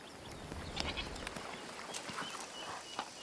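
A goat bleats faintly a few times in the video game A Plague Tale: Requiem, with soft farmyard ambience and light clopping underneath.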